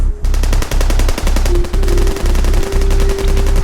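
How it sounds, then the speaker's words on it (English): Rapid automatic gunfire rattles in continuous bursts with brief pauses, loud and close, with a high tonal whine running underneath. "the gunshots awoke the armed groups in the area"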